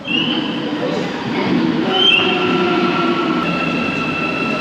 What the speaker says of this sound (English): Nice little metro.